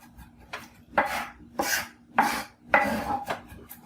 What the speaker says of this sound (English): now you've got fresh minced garlic